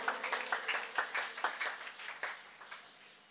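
Church congregation clapping in a steady rhythmic beat, moderately loud, rapid claps with a few cheers mixed in, gradually easing off.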